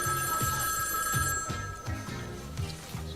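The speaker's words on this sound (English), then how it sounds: "Phone call for Sophia Capwell" A telephone rings in a hotel, a bright electronic trill repeating in a quick, steady pulse at moderate loudness, with no voices over it.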